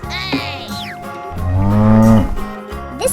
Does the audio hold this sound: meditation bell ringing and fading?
no